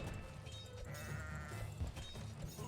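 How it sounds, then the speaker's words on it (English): Sheep bleat in the Kingdom Rush tower defense game, a few short bleats rising over a steady bed of game music and battle noise, with no talking. "Just kill all the sheep."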